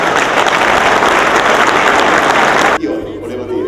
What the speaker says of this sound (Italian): Vi chiedo un applauso per voi.